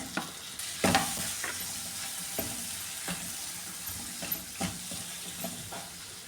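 Chili powder heats in a pan over a low flame and is stirred, giving a soft continuous sizzle with irregular scraping strokes of the spoon, close up and without speech.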